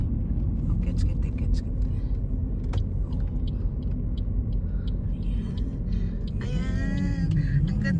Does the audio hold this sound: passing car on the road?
yes